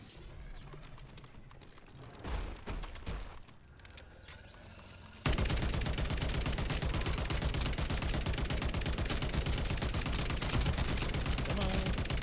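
Gunfire in the game Call of Duty MW3, a few scattered shots at first, then a sustained loud rapid burst of automatic fire that keeps going for several seconds without a break.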